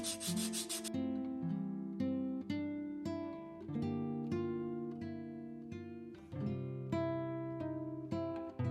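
Quiet, rhythmic back-and-forth rubbing of fine sandpaper on a leather edge, stroke after stroke, with music playing over it.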